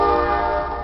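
A train horn blares loud and close, one sustained rich tonal blast that fades slightly as the short moment ends.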